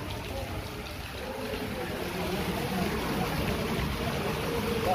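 Rainwater pours from roof drain spouts during heavy rain in Chattroh, Dadyal, Azad Kashmir, making a steady, close splashing gush that grows slightly louder, with a voice faintly audible beneath it.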